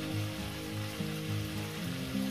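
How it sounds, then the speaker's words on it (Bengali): Cumin seeds sizzle in hot oil for tempering a Punjabi-style chicken curry, a soft steady crackling hiss under a faint tonal background. "এখানে একটু জিরে ফোড়ন দিয়ে দেবো, সামান্য পরিমাণে জিরে"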